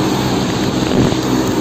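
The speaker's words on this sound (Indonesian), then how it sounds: "magana po lahat yung fan motor, yung 7." York unit fan motors running, a loud, steady broadband whoosh and hum with no change over the short stretch and no speech.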